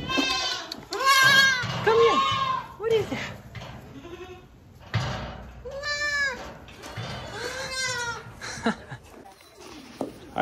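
Young goats, including a newborn, bleat repeatedly and close by in a string of high, wavering cries, several overlapping, with a person talking quietly between them.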